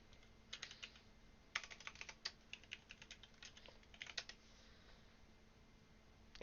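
Keys clatter on a computer keyboard as someone types a password while installing Ubuntu 20.04, quiet close bursts of quick keystrokes with short pauses and no voices.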